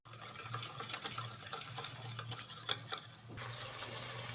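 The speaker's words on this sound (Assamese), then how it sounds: "এতিয়া মই এই মিশ্ৰণটো খুব ভালদৰে ফেটি ল'ম।" Whisking a turmeric powder and sugar mixture in a bowl with quick, uneven clinking and scraping strokes close up, ending in a steady low hiss from a pan nearby.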